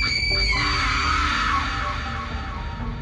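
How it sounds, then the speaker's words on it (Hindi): Shrill, sustained screaming and yelling fills a scene in the Kamla horror game. The cries are loud and continuous and sit over a dense, droning background. "तभी सामने से चीखने चिल्लाने की आवाज आने लगती है"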